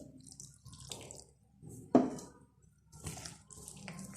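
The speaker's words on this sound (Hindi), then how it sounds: "और अब थोड़ा सा पानी ऐड करूँगी," A small amount of water is poured into chicken pakora batter with egg in a bowl, giving faint, close splashes and drips with one brief louder splash midway.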